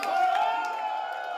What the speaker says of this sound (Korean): 반기문 전 유엔 사무총장이 무대 위로 오르자 여기저기서 환호성이 터집니다